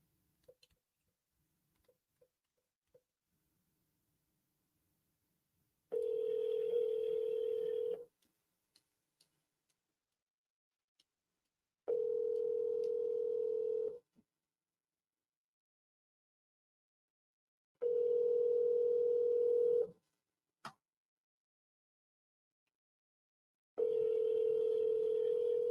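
A telephone ringback tone sounds while a call is placed to a commercial real estate brokerage, four evenly spaced two-second tones separated by silence, with faint clicks in between and no talking.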